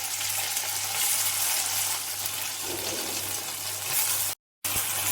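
Soaked flattened rice with cashews and raisins fries in ghee for avalakki payasa, a constant close sizzle with soft stirring, cut by a brief moment of silence near the end.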